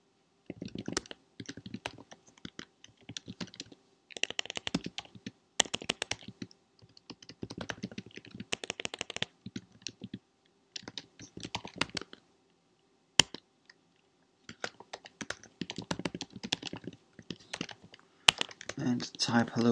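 Typing on a computer keyboard while setting up NGINX on Ubuntu: bursts of rapid close key clicks separated by short pauses, with a voice talking over parts of it.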